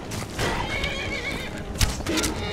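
A horse in the video game Skyrim neighs, giving a loud, shrill whinny amid hoof clip-clops and game background sound, with a sharp thump near the end.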